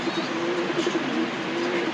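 A white Hungarian Budapest pigeon chick coos steadily and close by, a low repeated tone held over a constant hiss of background noise, with no talking.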